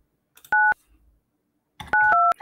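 Keypad tones from a Bria softphone dialing a call, mimicking a physical telephone: one short DTMF beep, a pause, then two more quick tones back to back, clean and loud against silence.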